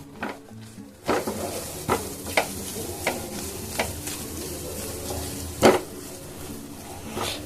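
Mango sandesh mixture being mixed in a pan, soft scraping and stirring with a light sizzle, punctuated by several sharp spoon knocks against the pan at irregular intervals.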